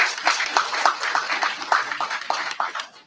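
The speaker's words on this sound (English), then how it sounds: "Give the Excellency a round of applause." Applause from the audience at a sod turning ceremony for a new construction project, a steady patter of many hands clapping close by that carries on for a few seconds and then thins out.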